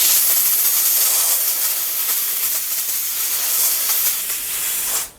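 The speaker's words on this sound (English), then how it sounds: "I think we're getting some steam down in this one here." Steady broad steam hiss from a setup used to loosen stubborn wood glue joints, loud and continuous for about five seconds before cutting off abruptly.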